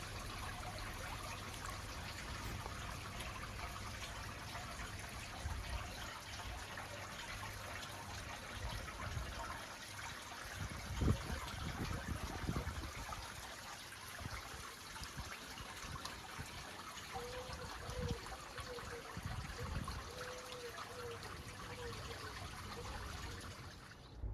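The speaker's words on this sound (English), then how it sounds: "I'll just fill a watering can up from the tap" Water runs steadily from a garden tap into a watering can, a continuous low trickle and gush that holds for the whole stretch with a few brief knocks partway through.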